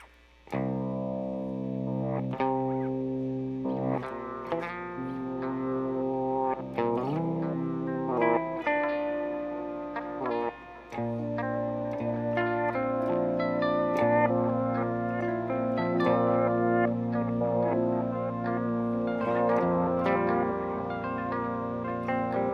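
An electric guitar played through a delay effect alongside a Tonverk and Zoia setup, with sustained melodic notes smearing into echoing, slightly distorted repeats over a steady low hum. It plays continuously and fairly quietly with no talk.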